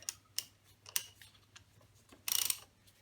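A torque wrench tightening bolts during brake fluid replacement on an Africa Twin motorcycle, heard as faint, sparse metallic clicks at close range, then a brief dense ratcheting burst near the end.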